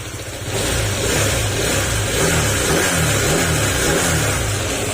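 A Honda PCX160 scooter engine idles steadily at close range, with a faint, regular valve-clearance tapping running through the low rumble.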